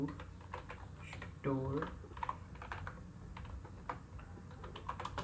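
Rapid keystrokes on a computer keyboard as C code for a priority queue program is typed, clicks steady and close, with someone speaking Hindi over them.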